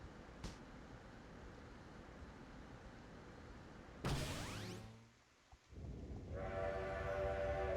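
A Dragon Quest IX train rushes past with a sudden loud whoosh and falling pitch, goes quiet briefly, then a steady rumble and whistle-like tones rise; synthetic, game-like quality.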